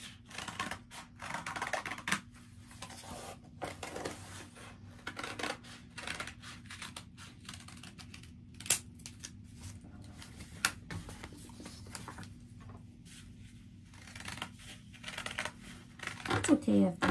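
Scissors snip through stacked colored construction paper to cut out feather shapes for a children's Thanksgiving craft, giving a steady run of close, crisp clicks and rustles with a voice faintly in the background.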